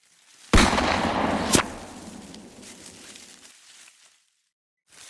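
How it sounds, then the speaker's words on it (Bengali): Two sharp gunshot cracks from a horror animation, the first followed by a long reverberating tail that fades over a few seconds, the second a brief snap, then near silence and a faint tap at the end. "তিনি আবার একটা গুলি করলেন।"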